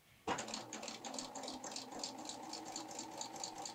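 A sewing machine stitches a flatlock seam using a lace applicator foot, starting abruptly and then running with a quick, even mechanical rattle and a steady hum, quiet and close.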